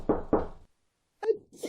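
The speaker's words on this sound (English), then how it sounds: "Alice went up to the door and knocked." Two sharp knocks rap on a door as a radio theater effect in an Alice in Wonderland production, heard close and clear, followed after a short pause by a voice.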